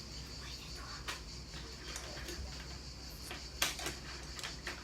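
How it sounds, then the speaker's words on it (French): Cicadas chirp outdoors in a continuous high buzzing drone, faint and steady, with a few soft clicks and knocks nearby and no talking. "Tu entends les cigales?"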